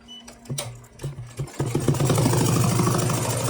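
Embroidery machine stitching a fill design: a few short clicks and pauses, then a steady, fast, even mechanical chatter running close and loud without break.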